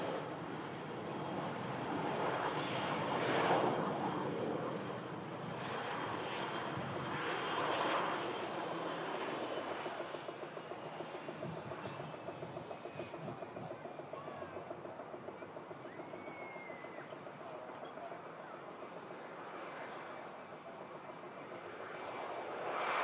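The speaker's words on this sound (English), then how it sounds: "Aircraft choosing to roll out as well." A jet airliner rolls out after landing at Manchester Airport, its engines a broad, steady roar swelling and easing across the distance for a long stretch with no voices.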